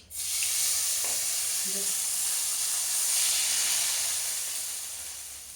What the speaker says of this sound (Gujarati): તો હવે આ વઘારને આપણે માંડવામાં ઉપર રેડી દેશું